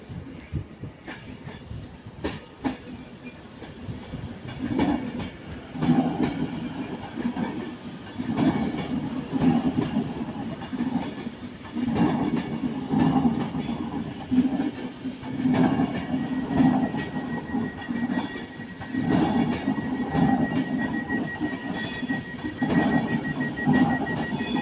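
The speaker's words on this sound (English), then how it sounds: "We've got an Avanti West Coast Class 390 Pendolino from London Euston." An Avanti West Coast Class 390 Pendolino train runs at Manchester Piccadilly station with steady rolling rumble and repeated rhythmic wheel clicks over the rails, moderately loud throughout and with no talk.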